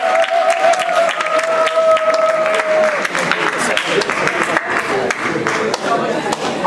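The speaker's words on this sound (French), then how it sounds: "donc une bonne main d'applaudissements pour cette équipe." An audience at a school math conference applauds a student team taking the stage, with crisp individual claps over a crowd murmur and a faint tonal sound early on.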